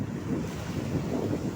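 Sea waves roll onto the shore while wind buffets the microphone, making a steady, loud, broad rushing roar with no break and no voices.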